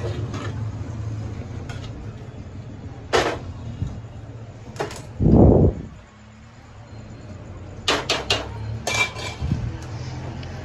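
A pan of carrot halwa with milk is stirred with a utensil, giving close clinks and scrapes of metal on metal in scattered bursts, with one louder rattling clatter midway and quieter gaps between.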